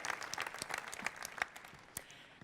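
Scattered applause from a small audience at a business presentation, honoring Renan and Dylan, with a sparse patter of claps fading out over a couple of seconds, fairly faint.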